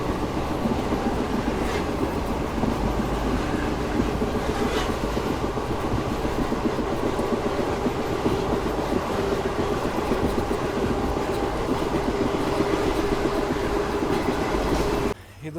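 A passenger train runs on rails from Mysore toward Chamarajanagar, a steady loud rumble with faint rhythmic clacking throughout, heard from on board with no voices.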